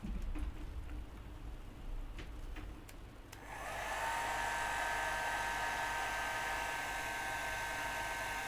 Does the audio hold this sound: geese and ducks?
no